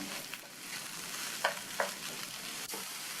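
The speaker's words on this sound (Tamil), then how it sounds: "இந்த வாழைக்காயை நல்லா எண்ணெயிலேயே மறுபடியும் நல்லா இந்த மாதிரி பரட்டி விட்டுக்கணும்" Plantain pieces fry in hot oil while being stirred and tossed in a pan, a steady soft sizzle with a few sharp scrape clicks from the utensil, close and alone.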